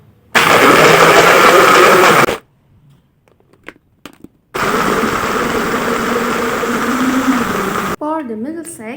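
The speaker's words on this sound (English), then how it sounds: "And blend it until smooth." A kitchen blender whirs loudly as it blends Oreo cookies with water into a milkshake, running in two strong bursts separated by a short pause, followed by a few seconds of speech.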